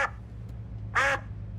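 Duck quacks in the Xbox Series S game Hitchhiker: a single short, loud burst of quacking rises over a steady low hum, with a brief faint sound near the start.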